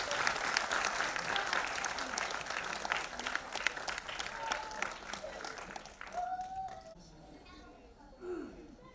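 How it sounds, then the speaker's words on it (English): Applause and cheering at a dance competition event erupts as mementos are presented on stage. The clapping stays full for about six seconds, then fades, and scattered voices and calls rise toward the end. "A big loud cheer"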